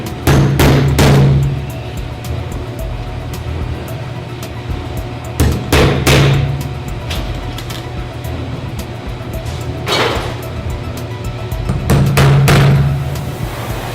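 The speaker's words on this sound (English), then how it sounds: "We're going to hammer this guys in." Four bursts of rapid hammering drive roofing nails into wood at roughly regular intervals, loud and close, with quiet gaps of background hum between them.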